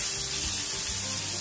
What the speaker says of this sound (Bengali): তো আমি গোল্ডেন ব্রাউন করে ভেজে তুলে নেব। আমি ভেজে নিচ্ছি,